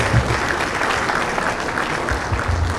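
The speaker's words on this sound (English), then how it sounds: "please do one more big round of applause for Media and all of their dancers" A large audience at a sports awards gala applauds dancers after a cultural performance: loud, dense clapping filling the hall, steady and continuous with a low rumble of crowd noise beneath.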